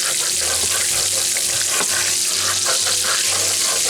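Butter sizzles loudly and steadily in a skillet, close up, while a spatula scrapes the pan bottom in repeated short strokes.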